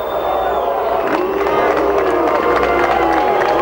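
A large crowd at the 2007 Toronto IndyCar Grand Prix roars and cheers continuously, loud and dense throughout, with shouts and whistles rising from the mass of voices.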